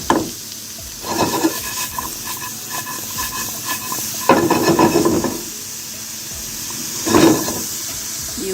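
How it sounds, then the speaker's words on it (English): A spoon stirs apple pie filling with cinnamon and salt in a pot, making three separate bursts of scraping and sloshing with quiet pauses between them. "Now we're gonna give this a stir."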